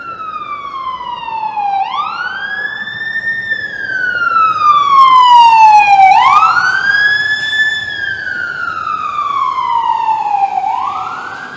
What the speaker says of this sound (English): Does that sound different than an NYC fire truck? It does a little bit. This one's a little bit more high pitched.